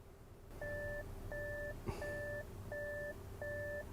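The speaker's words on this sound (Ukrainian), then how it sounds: "да що воно так пищить?" A Volkswagen ID.5's warning chime beeps in a steady pattern of five evenly spaced two-tone beeps, with a soft click partway through.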